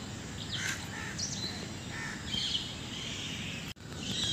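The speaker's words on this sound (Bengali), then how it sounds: "পাখিদের যে আওয়াজ শোনা যাচ্ছে, আরে বাবা রে, কান ঝালাপালা করে দেবে একবারে" Crows and other birds, parakeets among them, call from trees in a city forest in Jamshedpur. Scattered caws and chirps rise over a steady background hum, moderately distant, with no talk.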